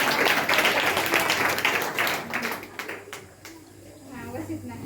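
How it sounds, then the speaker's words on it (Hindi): An audience at a Gayatri Parivar gathering claps, a dense, fairly loud round of applause that fades out after a couple of seconds as a voice begins speaking. "और फिर ताली बजाइए इनके माता पिता के लिए।"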